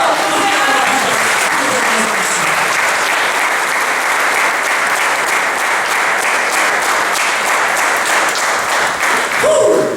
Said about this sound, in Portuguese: É uma aplauso ao Senhor